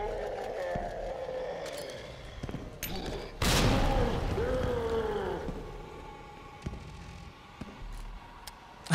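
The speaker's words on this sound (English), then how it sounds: "Grenade again." A grenade launcher firing in Resident Evil 2 Remake gives one loud blast with a long rumbling tail, followed by scattered thuds and game effects; someone talks quietly through parts of it.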